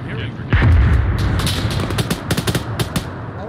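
Gunfire in a survival shooter video game cracks out in a quick burst of sharp, close shots after a heavy boom, with voices talking over the action.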